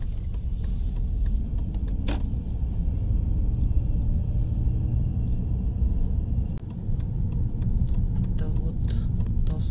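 Car driving along a city street in Shymkent, Kazakhstan, recorded from inside: a steady engine and road rumble throughout with a few light clicks and rattles, no speech.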